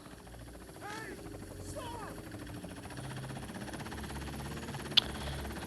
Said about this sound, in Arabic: طيارة